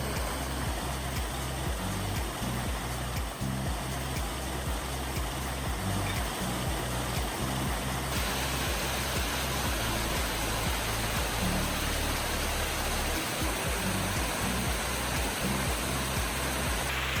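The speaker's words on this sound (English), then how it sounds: "this is the first Cascades on the Doyle River Trail" The first cascades on the Doyle River Trail in Shenandoah National Park rush in a steady, full-bodied roar of falling water that continues unbroken throughout, with no voices.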